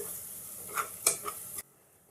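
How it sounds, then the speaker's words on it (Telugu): Ginger garlic paste fries in a pan with a soft, steady sizzle. A few sharp stirring scrapes break through before the sound cuts off abruptly. "ఇప్పుడు అల్లం వెల్లుల్లి పేస్ట్ వేసేసుకుందామండి. ఇది కూడా పచ్చి వాసన పోయేంత వరకు వేపుకోవాలండి."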